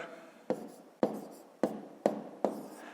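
A pen scratches numbers onto paper for a column subtraction in a fifth-grade math exercise, heard as five or six short, close bursts of rasping strokes with brief gaps between them and no talking.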